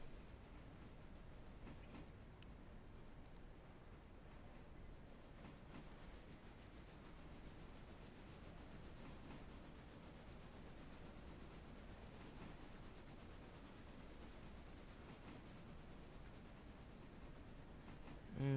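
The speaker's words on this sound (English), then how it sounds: "to get a 12-car train started on a grade" Locomotive 92 starting a 12-car train on a grade: a steady, fairly quiet rumble with faint rhythmic rail clatter, continuing unchanged for nearly twenty seconds with no voices.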